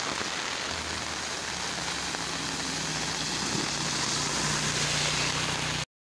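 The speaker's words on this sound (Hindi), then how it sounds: "नाज़रीन काफ़ी तेज़ बारिश लगी हुई है" Heavy rain pours in a dense, continuous hiss at night, with a low engine-like hum running underneath, before the sound cuts off abruptly near the end.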